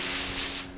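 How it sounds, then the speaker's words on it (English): Garden hand sprayer misting water onto plants, a steady close hiss of spray lasting under a second and tapering off at the end. "So get your sprayer out, just wet the plant down, get it all nice and wet"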